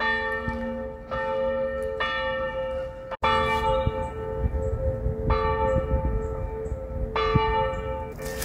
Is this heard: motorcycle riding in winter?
no